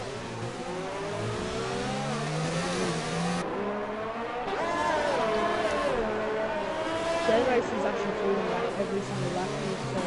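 Formula 1 cars in F1 2019 at the Azerbaijan Grand Prix drone and rev through gear changes, engines rising and falling continuously beneath a commentator talking over the race.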